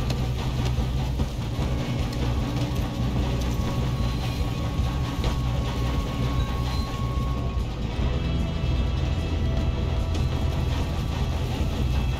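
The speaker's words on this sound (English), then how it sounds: "We have to stop this train." A train runs on rails in Red Dead Redemption 2, giving a loud, constant rumble and rattle of wheels and cars that rolls on without a break.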